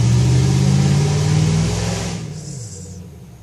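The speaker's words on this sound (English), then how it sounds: "I have to excuse my neighbors and their motorcycle." A neighbour's motorcycle roars past loudly, its engine drone holding strong and then falling away as it recedes into the distance, with no talking.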